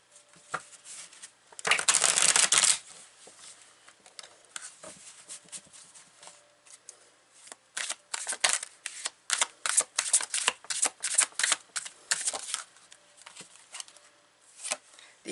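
Tarot cards being shuffled close up, a long dense riffle early on followed by many quick crisp flicks and slaps as the deck is handled, with no talking.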